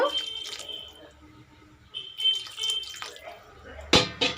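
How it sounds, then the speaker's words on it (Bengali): Water pours in short splashing bursts into a pot of bottle gourd and potato, with a louder clatter near the end. "আর একটু আমি জল দিয়ে দেব"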